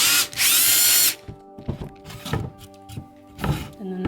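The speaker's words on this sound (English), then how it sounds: "I'm just going to go over the hole that I just did and go in a little" Power drill with a large countersink bit reaming over a pre-drilled hole for a DIY frame shelf: a loud burst of whirring, then shorter intermittent whines and knocks as the bit is repositioned.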